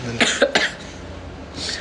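A person with a cold gives three quick, close coughs in succession, followed by a softer breathy sound and quiet.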